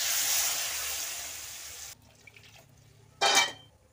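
Water poured into a cooking pan of spiced cauliflower curry, a loud rushing hiss that stops abruptly, followed by quiet, then a short sizzling splash.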